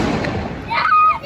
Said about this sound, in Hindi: अभी हम लोग जा रहे हैं बुलेट बम दगाने